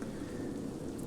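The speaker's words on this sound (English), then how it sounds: "It's raining." Rain falls steadily in the video game A Juggler's Tale, a dense, even hiss of drops that holds unchanged and loud throughout with no pauses.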